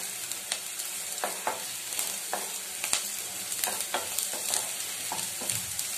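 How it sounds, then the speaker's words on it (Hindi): Onion fries in a pan until browned while making chaat, giving a steady, dense sizzle throughout with occasional soft scrapes and stirs. "जब तक हमारा प्याज ब्राउन ना हो, हम इसको भूनेंगे अच्छी तरह, कलर चेंज हो जाए।"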